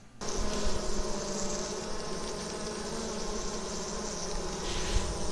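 Honeybees in a combined hive, heard from close by as a steady, soft droning hum of fanning wings, continuous and even with no voices.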